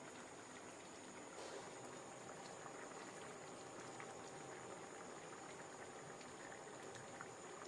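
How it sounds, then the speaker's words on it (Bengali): Fried soybean koftas simmering in a boiling curry with potatoes, a faint, continuous bubbling and burbling that holds steady from start to finish. "বড়াগুলো দিয়ে চার মিনিট মতো ফোটাবে"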